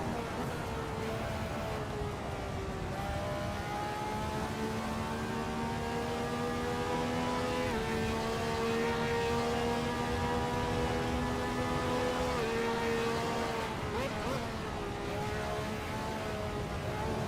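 Simulated racing car engine from the Assetto Corsa racing game at Brands Hatch, a steady droning note that rises and shifts through gear changes and runs continuously under a constant loud roar.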